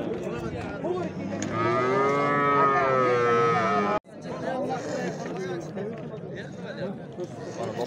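Cattle low loudly at a livestock market in Qiziriq, one long drawn-out moo rising over steady crowd chatter and nearby voices that keep talking through it.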